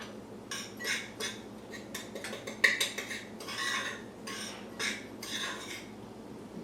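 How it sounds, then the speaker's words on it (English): Muffin batter made with chestnut flour, gluten free, being stirred in a bowl, heard as a steady series of soft rhythmic scraping strokes, fairly quiet and close. "We're going to mix this together."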